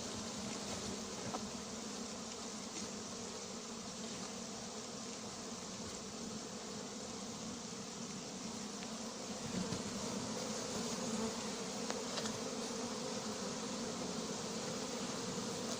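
A honeybee swarm being gathered in Viry-Châtillon fills the air with a dense, continuous buzzing hum, steady and fairly soft throughout, with no voices heard.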